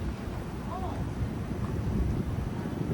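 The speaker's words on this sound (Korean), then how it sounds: "바람 진짜 많이 분다." Strong wind buffets an outdoor microphone in Busan as a steady, loud low rumble that runs the whole time, with a faint voice briefly audible.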